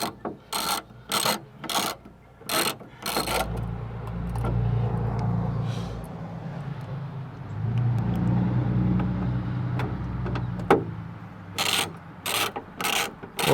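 Ratchet wrench tightening 10mm bolts inside a Dodge Avenger trunk: quick bursts of sharp, close ratcheting clicks at the start and again at the end, with a low rumbling handling noise in between and no talking.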